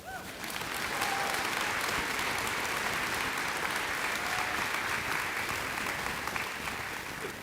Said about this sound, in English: I need an applause for that.